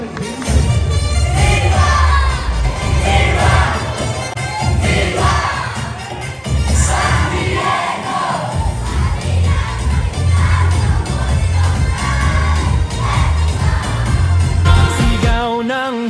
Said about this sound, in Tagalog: Palakpakan po natin ang ating karawan mula sa Kenya.